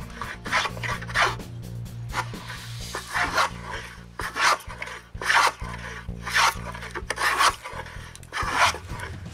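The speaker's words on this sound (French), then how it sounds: "Pour finir par varloper les marques de scie." Repeated rasping strokes of a hand plane shaving off saw marks on wood for a workbench, steady back-and-forth rhythm, close by, with a low hum running underneath.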